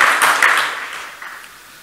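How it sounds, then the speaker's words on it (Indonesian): Applause from an audience for a youth creative hub in Aceh, a crowd clapping that starts loud and steadily fades over about two seconds. "Tepuk tangan untuk amanah Youth Creative Hub di Aceh"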